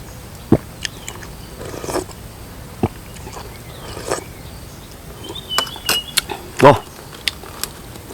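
Intermittent crisp crunching bites, a few sharp chews spaced out with quiet gaps, close to the listener.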